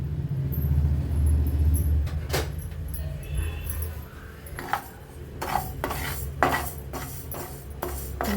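Rice dry-roasting in a pan for majjige huli masala: a spoon scrapes and stirs the grains in soft rasping strokes, with clinks and taps against the pan growing more frequent toward the end, with no talk.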